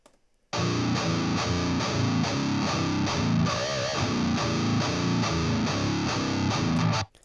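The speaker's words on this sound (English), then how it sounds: "I'm going to let you guys hear what that sounds like now with the orange cab" A heavily distorted electric guitar through an Orange speaker cabinet chugs out a thick, saturated riff that starts abruptly and holds steady and loud before cutting off.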